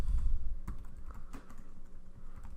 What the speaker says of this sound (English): you're going to type in your business name